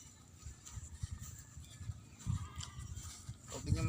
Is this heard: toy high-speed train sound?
no